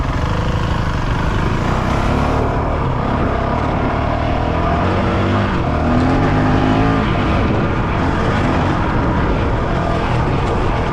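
A Honda CRF 450 RL dirt bike engine roars loud and close while riding a trail, with a continuous revving drone that rises and falls with the throttle.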